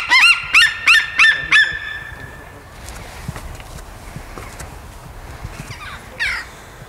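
Ravens at a bird zoo in winter give four loud, harsh caws in quick succession, then fall silent, leaving a quiet outdoor background with faint rustling and a brief later noise.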